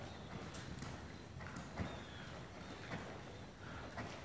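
A horse walking, its hooves giving soft, faint clip-clops in an uneven rhythm over a broad, steady background hiss.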